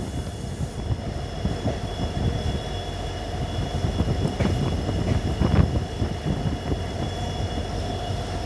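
The Mangaluru–Bengaluru express stands at a renovated station, a long train with a steady low rumble and hum of idling equipment, with faint clanks and rail noises rising midway.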